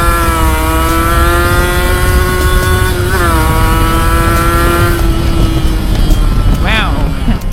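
A Kawasaki Ninja SS motorcycle with an open exhaust, ridden and shifting gears: a loud, steady buzzing engine drone with a brief dip at each shift, then rising revs near the end, with a rider talking over it.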